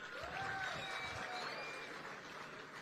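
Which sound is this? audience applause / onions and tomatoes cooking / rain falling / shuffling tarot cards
audience applause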